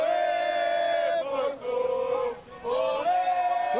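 Palmeiras supporters chanting in unison as they arrive at the stadium for a classic match, a loud sustained crowd chant with rising and falling sung phrases and a short dip between lines.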